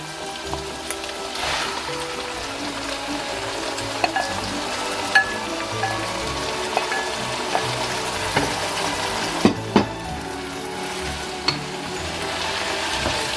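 Ackee and saltfish fry in a pan with a soft, steady sizzle, punctuated by occasional light clicks and taps of a utensil stirring, fairly quiet and close with no talking.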